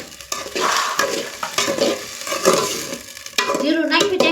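Rice and spices being stirred in a hot pan for khichdi, a spoon scraping and clinking against the pan in uneven strokes over a steady close sizzle of frying.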